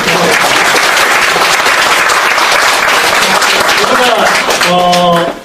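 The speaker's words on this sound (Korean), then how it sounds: "박수 치기 드리겠습니다" A loud, close, continuous burst of audience applause fills a political campaign talk event in a café, with many hands clapping densely before a voice begins speaking at the end.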